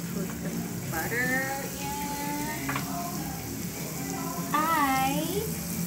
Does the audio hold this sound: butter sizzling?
yes